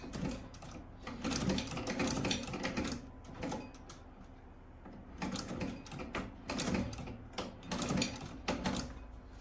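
A sewing machine stitches a sandal strap in repeated short bursts of rapid mechanical clatter, separated by brief pauses, steady and close.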